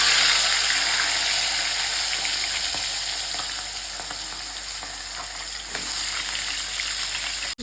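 Fish heads sizzle steadily in hot mustard oil in a pan, a loud, continuous crackling hiss that eases slightly over time, with a few faint scrapes partway through.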